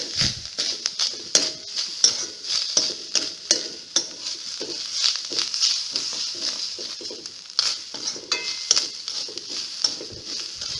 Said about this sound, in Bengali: আমরা আমাদের আধা কাপ নারকেল কুড়ানোটা সুন্দর করে ভেজে নিচ্ছি